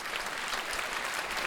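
An audience at a Chicago multiple sclerosis wellness event applauds the sponsors, a continuous, even crackle of many hands clapping together, fairly soft and with no voices over it.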